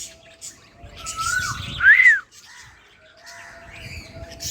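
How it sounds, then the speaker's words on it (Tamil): A crow gives a loud, close, rasping caw, with a thin whistled tone before it and faint bird chirps in the quiet background. "காக்கா தான் வந்துருக்கு."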